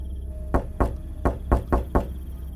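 Knocking on a door in a horror story: six sharp, close knocks in an uneven pattern over about two seconds, heard alone against a faint background hum.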